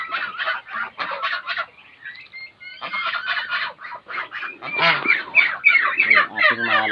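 Two-month-old farm geese honk repeatedly in loud, close bursts, a busy overlapping chorus with a brief lull partway through.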